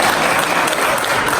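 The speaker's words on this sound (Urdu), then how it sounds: "کچھ تالیاں بجائیے کچھ مسکرائیے" An audience at a mushaira poetry recital in Paris claps in a dense, loud, steady burst of applause.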